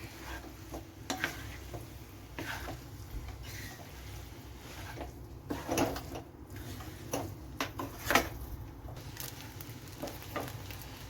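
Indomie noodles are stirred and mixed in a pan, giving soft intermittent scrapes and knocks over a low sizzle, close by and fairly quiet, with no voices.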